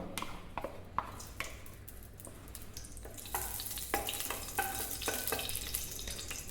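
Ghee heats in a pan on the stove for biryani rice. A soft sizzle runs under intermittent clinks and scraping stirs, with sharper taps toward the end. No one talks.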